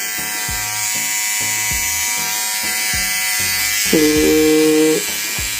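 An HTC hair trimmer runs with a steady electric motor whine, near and fairly loud, with a brief shift in pitch toward the end, alone without talk.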